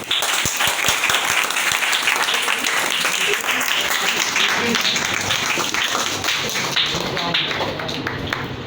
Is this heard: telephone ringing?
no